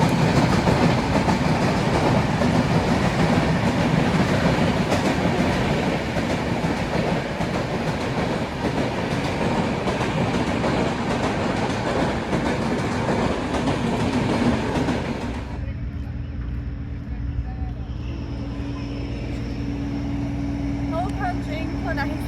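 A passenger train rolls into a station on the Goalpara to Gangtok route, a loud steady rumble and rattle of wheels and cars that cuts off abruptly, leaving quieter platform ambience with a low hum.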